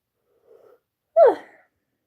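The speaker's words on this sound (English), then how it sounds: "Sorry, I'm always yawning." A single close yawn, a short voiced gasp that swells and falls away within half a second, following a faint breathy sound with no talking.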